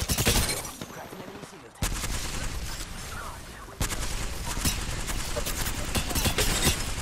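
Bursts of L-Star energy gunfire in the Apex Legends video game crackle in rapid sustained volleys, with sharp cuts between bursts and loud impact sounds layered throughout.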